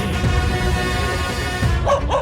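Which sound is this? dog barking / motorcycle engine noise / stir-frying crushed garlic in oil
dog barking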